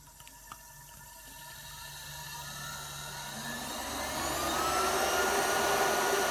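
An old treadmill motor runs at its top speed, a steady whirring hum that rises and grows slightly louder over several seconds, with a fan running nearby.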